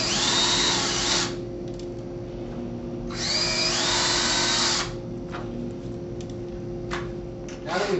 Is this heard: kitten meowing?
no